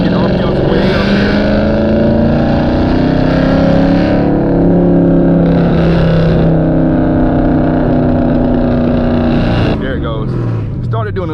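A catless Dodge Challenger's engine revs high and loud in second gear, its exhaust drone climbing and holding, with a few crackling pops as the revs drop near the end.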